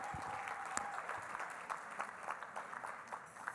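A luncheon audience applauds Senator Tony Hill, a dense patter of many hands clapping at moderate distance, steady for a few seconds and then tapering slightly.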